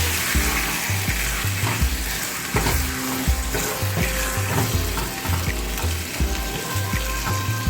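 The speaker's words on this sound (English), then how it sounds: "I'm just going to cook up your beans in this." Beans cook in a pan for a vegan chipotle bowl, giving a loud, continuous sizzle with bubbling and stirring noises close by.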